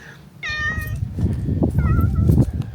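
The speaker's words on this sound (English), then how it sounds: "Look at this kitty" A kitty outdoors along the Camino de Santiago gives two clear, close meows, a higher drawn-out one and then a shorter one, over rustling background noise.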